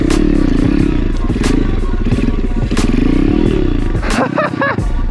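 A Kawasaki KLX140RF dirt bike engine drones loudly and continuously close by on a trail, its pitch rising and falling with throttle blips, with light clatter from the bike underneath.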